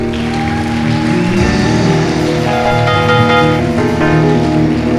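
Loud, sustained clapping from a church congregation during a Nazarene church service fills the room in an even, dense roar, with musical tones running beneath it.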